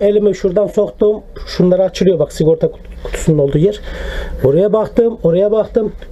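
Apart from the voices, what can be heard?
No everyday noises stand out.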